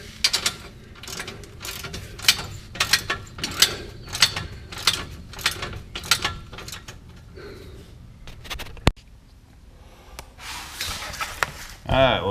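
A 3/4 wrench ratchets on exhaust H-pipe bolts of a Fox Mustang, with bursts of rapid clicking repeating in a steady rhythm up close, then a sharp clank and a pause.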